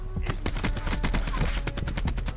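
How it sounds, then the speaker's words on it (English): Rapid automatic gunfire in Call of Duty Black Ops 4, a dense, evenly spaced burst of loud shots running the whole time with no pauses. "Why are you shooting?"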